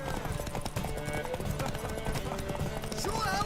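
Galloping horse hooves in The Witcher 3 video game, a fast continuous clatter that stays loud and close beneath overlapping talk.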